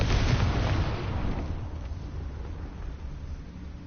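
A Confringo fire spell explodes in the video game Hogwarts Legacy, a loud booming blast that rolls and fades over a few seconds with no talk.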